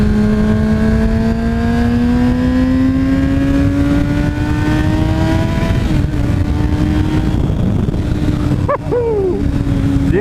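A Kawasaki ZX6R motorcycle pulls onto a freeway at night, its engine loud and close as it revs up through a rising pitch, drops into the next gear, then keeps droning along at speed.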